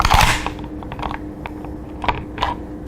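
Bolt being released and slid out of a Swiss straight-pull carbine via its removal catch, heard as a scrape followed by a few sharp metallic clicks and clacks spaced apart, close up and moderately quiet with no talking.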